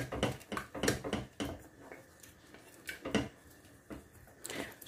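A spoon scrapes and knocks against a pot while stirring a milk, chocolate and cornstarch flan mixture, giving quiet, irregular clinks and taps with soft gaps between them.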